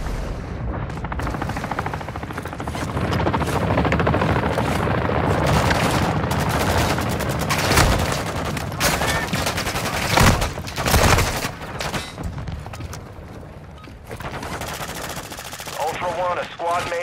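Dense, loud automatic gunfire and explosions crackle almost continuously in the video game DMZ, with heavy bursts and booms punctuating the sustained shooting and radio-style voice alerts mixed in.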